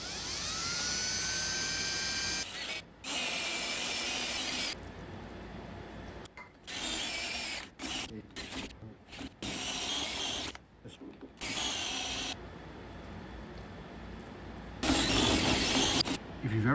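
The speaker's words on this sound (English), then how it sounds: "a bridge reamer that goes in here, and it'll make the hole" Bridge reamer boring out a hole to 3/4 inch in metal for an art car build, a loud grinding whir that starts and stops in choppy bursts, with long stretches of sustained cutting noise.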